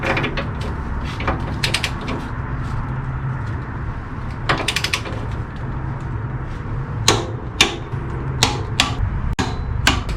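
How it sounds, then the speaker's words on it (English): A torque wrench set to 45 tightens a rear shock bolt on a Harley FLH fitted with Legend Revo-A shocks, giving scattered sharp ratchet clicks over a steady low background hum. "so let's torque it down"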